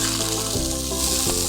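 Diced tenderloin steak sears in a hot pan with a steady, close sizzle and frying crackle that holds throughout, with no one talking.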